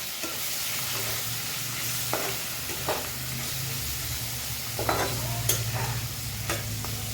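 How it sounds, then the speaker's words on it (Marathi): Ginger garlic paste frying in a pan for paneer pulav, a continuous low sizzle with intermittent scraping strokes of a spoon as it is stirred, close and clear, with no talking. "मी अद्रक लसूण पेस्ट टाकते त्यामध्ये. आता हे आपल्याला चांगलं हलवून घ्यायचं."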